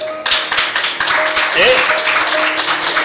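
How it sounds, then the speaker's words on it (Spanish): A church congregation applauds for the King, a dense wash of clapping close by with a voice and tones running through it. "¿Cuánto aplauden al Rey?"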